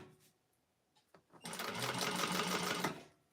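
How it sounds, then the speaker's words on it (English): A home sewing machine top stitches a fabric clutch wallet at a long stitch length, with a soft start and then a steady, close, rapid mechanical whir lasting about a second and a half before stopping. "We're going to go ahead and top stitch along there."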